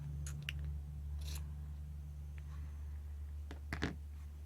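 Scissors trim yarn hair on a handmade primitive cloth doll, giving a few quiet, separate snips spread over several seconds above a steady low background hum.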